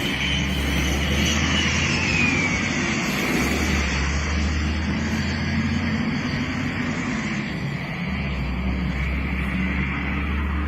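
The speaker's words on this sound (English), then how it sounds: "the plane we're seeing there is a B-2 bomber" A B-2 bomber aircraft flying overhead, a loud continuous engine roar with a low rumbling drone that holds steady through the whole stretch, with no voices.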